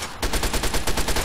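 Rapid automatic gunfire from the video game Fallout 3 rattles off in a steady, loud stream of about a dozen evenly spaced shots, with no voices over it.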